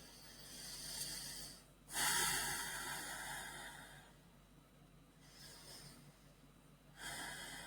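Slow deep breaths during a yoga pose, a few long, close, airy inhales and exhales with pauses between them, faint and alone.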